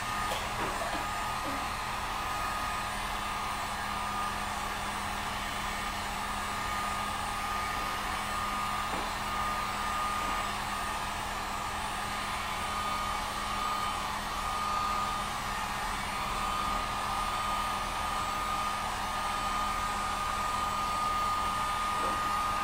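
A heat gun blowing hot air onto WoodUBend moulding, a steady, continuous whirring blower hum with a fixed tone, fairly quiet and unbroken, no talking.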